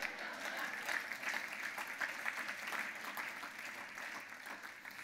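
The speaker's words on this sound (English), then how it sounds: "is that not worth a round of applause?" A round of applause at an annual dinner event, a steady roomful of clapping heard at moderate distance, even and sustained across the whole stretch.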